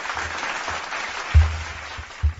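A small group applauds during a live options trading session, a short burst of scattered clapping with a couple of louder thumps near the end.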